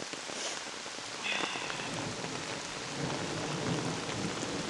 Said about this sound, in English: it's still thundering and raining